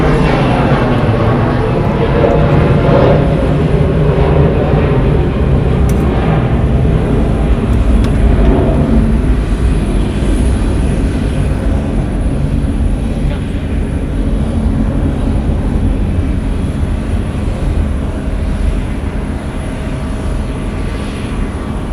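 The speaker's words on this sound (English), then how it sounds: "Departing is Delta Airlines flight 1281 going to Milwaukee. It's an Airbus A321," A four-year-old Delta Airlines Airbus A321 jet departs Atlanta Hartsfield-Jackson airport, a loud continuous engine roar that holds steady throughout and eases slightly toward the end.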